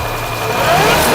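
A car engine is revved during a misfire check, with the fault traced to a harness wire feeding the injector. The engine is briefly heard close by, its roar swelling toward the end.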